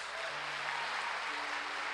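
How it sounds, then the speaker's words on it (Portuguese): A church congregation applauds steadily, a dense wash of clapping filling the space evenly and continuously, heard alone without any talk. "dê ao Senhor um forte aplauso em nome de Jesus"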